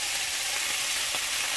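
Steady, close sizzling of broccoli frying in a pan, a continuous crackling hiss with no voices.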